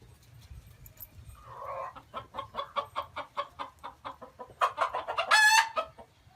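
A chicken clucks in a steady, rapid series of short calls, rising to a louder squawking burst near the end, with faint ambient noise beneath.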